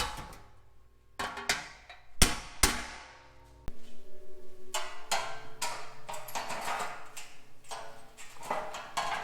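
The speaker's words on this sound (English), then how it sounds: "I took a punch and knocked them in." A few sharp metal strikes, then a steady run of regular hammer blows on a punch, driving holes into the steel shell of a waste oil burner; close, ringing clanks with no talk.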